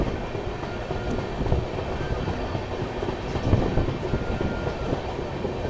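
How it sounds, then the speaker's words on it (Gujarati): A train, the 19319 Mahamana Express leaving Piplod Bagla station, rolls steadily along the rails with a continuous rumble and faint clickety-clack, heard from inside a 3rd AC carriage, no voices. "ચાલો ફાઇનલી અડધી કલાકના હોલ્ડ પછી આપણે નીકળી ગયા છીએ પીપલોદ બાગલા રેલવે સ્ટેશનથી"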